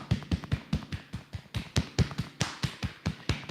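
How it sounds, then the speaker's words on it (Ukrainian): Hands tap rhythmically on the chest during a morning breathing exercise, a quick run of soft, close, evenly spaced thumps in pairs, faint and without talking. "І грудну клітину вже самі постукайте, будь ласка"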